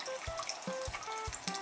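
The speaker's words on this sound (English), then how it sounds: "Yeah, the dripping?" Water drips inside a volcanic lava tube, a few distinct plinking drops falling at irregular intervals over a quiet, hollow background.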